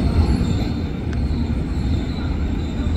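An electric KRL Commuter Line train pulls into Manggarai station with a steady, loud rumble and a continuous hiss of wheels on rail. A faint high squeal runs over the top of the sound for its full length.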